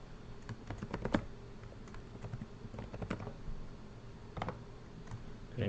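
Keyboard typing while entering account details such as a name and password: irregular bursts of close, crisp key clicks with short pauses between runs, fairly quiet and with no voices.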